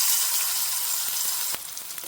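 Crushed shallots and garlic frying in hot oil in a pan, giving a steady, close, bright sizzle that crackles without pause, with no voices.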